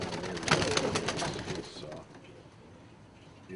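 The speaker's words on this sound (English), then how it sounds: "Here we have a Danzig high flyer" A black Danzig high flyer pigeon coos softly at close range, its low repeated calls blending with other pigeon sounds and fading after the first couple of seconds.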